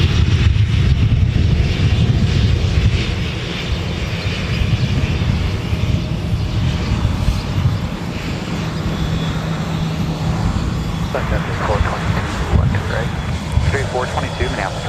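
A passenger aircraft taxis nearby at Minneapolis–St. Paul Airport, its engines producing a loud, steady low rumble and roar that continues throughout, with a person talking over it partway through.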